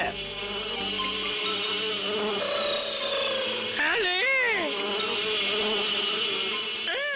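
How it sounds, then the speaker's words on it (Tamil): Cartoon sound effect of a mosquito swarm, a dense, high-pitched whining buzz that swoops up and down in pitch and runs continuously under a character's speech. "ஐயோ, இவ்வளவு கொசு எங்க இருந்து வந்துச்சு?"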